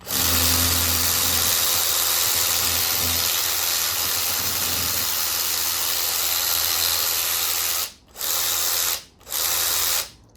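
Makita XRW01 cordless power tool running with no load, a loud steady high-pitched whir with a ratcheting buzz that cuts off twice in quick stops near the end.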